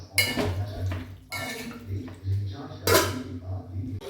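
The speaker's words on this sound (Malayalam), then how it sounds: "ഇനി നമ്മൾ നല്ല മാതിരി ഇളക്കി കൂട്ടി മൂടി വയ്ക്കുക" A pot of water is stirred and then covered with its lid in a home kitchen, giving a few sharp metallic clanks and scrapes set against a low steady hum.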